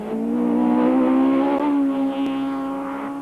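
A rally car engine drones steadily at high revs along a gravel stage of the 1992 Volkswagen Algoa Rally, a loud sustained roar with slight pitch shifts as it passes.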